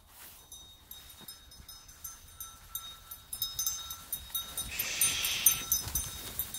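Sheep bleating at a distance while a sheepdog herds them in a field, scattered calls rising in a busy, rustling outdoor scene with no one speaking.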